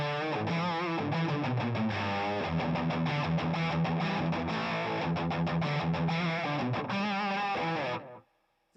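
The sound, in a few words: overdrive pedal with treble boost distortion, electric guitar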